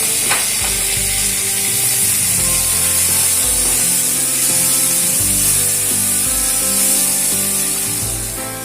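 Onions and tomatoes fry loudly in a pan, a dense, close sizzle and hiss with stirring scrapes and occasional tonal clinks throughout, no voices.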